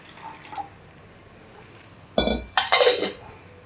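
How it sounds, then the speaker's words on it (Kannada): Water poured into a cooking pot set on a stove, arriving as two short splashing bursts after a quiet stretch, close and moderately loud with no talking. "ಸ್ವಲ್ಪ ನೀರು ಹಾಕ್ಕೊಳ್ಳೋಣ."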